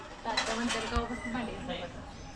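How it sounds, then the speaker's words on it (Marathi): Dishes, pots and utensils clatter and clink nearby as they are scrubbed, with a person talking over the washing. "भांडी घासतोय की आता मी शिकलो की भांडी घासायला"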